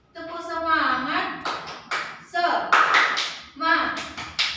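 A class in a microteaching session does a rhythmic 'tepuk semangat' clapping chant, with bursts of claps between voices calling and chanting in unison.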